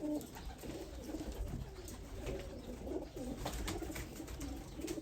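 Breeder pigeons, Sialkoti birds kept by a fancier in Isa Khel, Mianwali, coo softly and repeatedly in overlapping low calls, close and steady with no talk.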